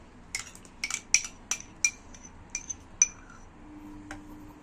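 A spoon clinks against a small cup while pie dough ingredients are stirred: about a dozen sharp, bright metallic taps come in irregular bursts, close and clear, then one faint tap follows after a short pause.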